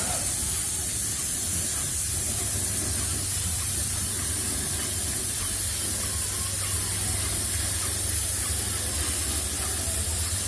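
Steady, loud hissing spray of a Graco airless paint sprayer with a low-pressure tip running continuously while painting a house, a broad airy rush with a low mechanical hum underneath.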